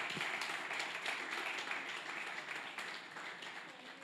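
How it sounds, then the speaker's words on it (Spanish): A church congregation at a Sunday service applauding, a dense wash of many hands clapping at once that fades slightly toward the end. "Dele un fuerte aplauso al Señor porque Él se lo merece"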